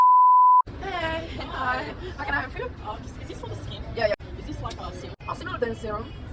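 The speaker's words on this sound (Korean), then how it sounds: "알바생 특 알람 울림 바로 일어난다" An alarm rings as a single steady electronic beep, loud and brief, then cuts off into the chatter and background voices of a busy indoor space in Sydney.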